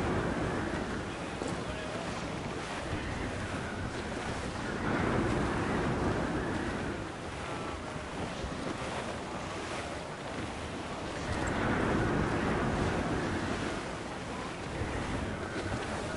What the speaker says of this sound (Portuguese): céu fechado e mar agitado lá